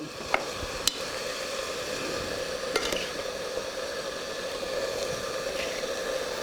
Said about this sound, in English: we've got spinach we're throwing in